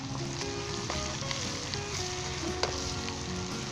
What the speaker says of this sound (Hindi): जस्ट 1 से 2 मिनट के लिए हम इसे मज़ीद फ्राई करेंगे